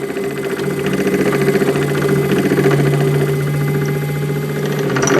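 A wood lathe runs steadily while a bit drills into a pen blank, giving a continuous loud motor drone with a strong low hum and rhythmic rattling vibration, with no talking.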